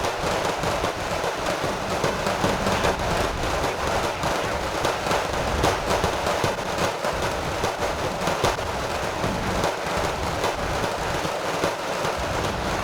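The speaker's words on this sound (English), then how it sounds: "That artillery strike might actually be exactly what I needed" Artillery strike in the war game Wargame: Red Dragon, a dense barrage of crackling, popping detonations and rumbling impacts rolling on continuously at a steady loud level, with no speech.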